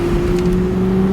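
A 2007 Cadillac XLR roadster, Passion Red Limited Edition, accelerates with its top down, giving a steady, loud engine drone that holds an even pitch with no talk over it.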